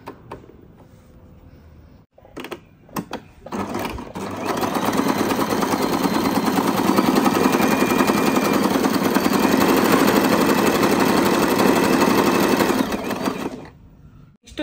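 A few soft clicks and taps come first, then a sewing machine stitching a pattern bursts into a loud, fast rattling run for about nine seconds before stopping abruptly.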